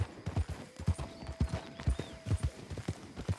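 Horse hooves of a Missouri Foxtrotter clip-clop steadily along a road in the Western game Red Dead Redemption 2, a brisk rhythmic series of close, distinct hoofbeats with no talk.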